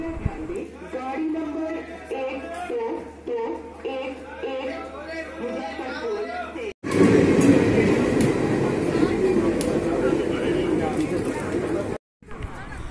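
Passenger train rolling from Bareilly toward Ajmer through Delhi, a steady loud rumble of the carriage in motion, with voices talking over it in the first half and the running noise growing louder and denser after a brief cut.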